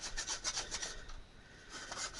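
A new piece of sheet-metal return duct is cut with repeated rasping, rubbing strokes in a steady rhythm, fairly quiet and close, pausing briefly midway before resuming.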